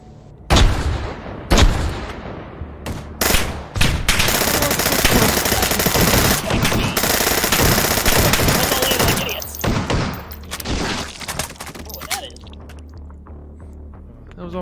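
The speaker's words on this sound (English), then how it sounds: "we're gonna do an aerial bombardment with this" Aerial bombardment in the video game Guns 2: Reloaded, opening with separate heavy blasts, then a long dense barrage of rapid gunfire and booms before breaking up into scattered shots.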